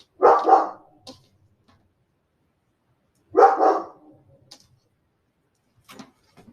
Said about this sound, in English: And I apologize for my dog.